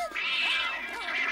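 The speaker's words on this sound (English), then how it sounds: "Misha, stop that, you bad cat" A cat gives one drawn-out, whiny meow that rises and wavers in pitch, close and fairly loud, in an animated Cinderella episode.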